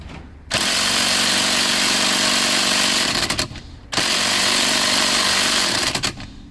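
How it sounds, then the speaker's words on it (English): An impact gun works on the steering wheel nut of a Mercedes W140 S500, firing in two loud, sustained hammering bursts of about three seconds each, close up, with a brief pause between. "we went and got the impact gun, because this thing is torqued down hella tight"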